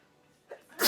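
A single close, sharp sneeze at the very end, preceded by a quiet intake of breath, likely triggered by dust from old dolls stored in boxes.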